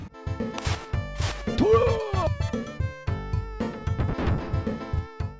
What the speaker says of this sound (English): When Shinobi pops his ninjutsu, you get this